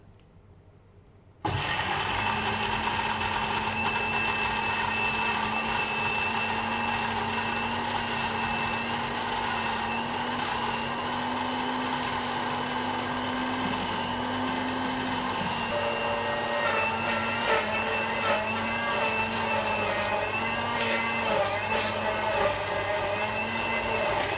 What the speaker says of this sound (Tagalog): i-blender ko siya ng 5 minutes para pinong-pino